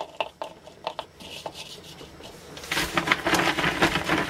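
Pumped 3/4 inch outer petal stars rattle and rub as they are poured into firework shell casings for a 7 inch double petal shell, a few dry clicks at first, then a denser scraping pour.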